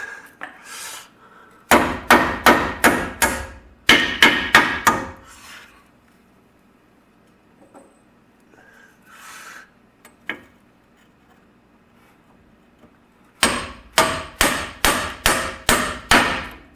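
Bursts of rapid, sharp metallic hammer blows seating a bearing into a Baja buggy trailing arm, several strikes in quick succession, separated by quieter pauses with scattered clicks, then another series of evenly spaced hits.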